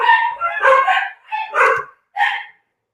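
Several dogs bark indoors in a house, a rapid, loud run of close barks and yips in short bursts that trail off into silence.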